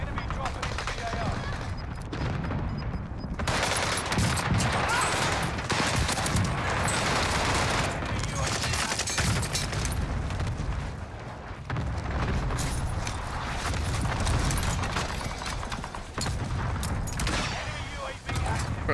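Cluster strike explosions in the Call of Duty Rebirth Island game, a long loud string of rapid booms and blasts with bursts of gunfire, lasting many seconds.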